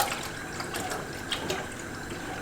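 Milk is poured for a sugar-free, flourless apple cake batter, giving a soft, steady liquid trickle with faint splashy ticks, fairly quiet and close, with no talking.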